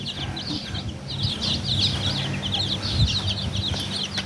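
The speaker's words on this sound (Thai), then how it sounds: "วันนี้พามาชมนะครับ ลูกเจ้าซอมบี้นะครับ" Chickens cluck softly and repeatedly in a farmyard, with low rustling and background noise throughout.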